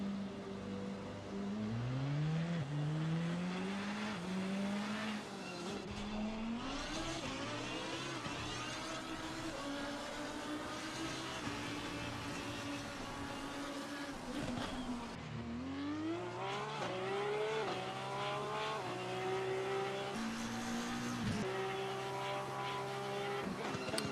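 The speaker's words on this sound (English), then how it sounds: "It's a Porsche versus the McLaren." Porsche and McLaren race cars roar through a rain race in Assetto Corsa Competizione, engines climbing and dropping in pitch as they shift and brake, a continuous loud drone with overlapping revs and no talk.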